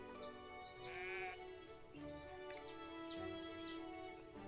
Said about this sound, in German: das sind tatsächlich unsere Schafe